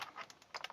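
Several sharp clicks from keys being pressed on an old mechanical keyboard with an AT plug and spring switches, close and distinct in a quick irregular run.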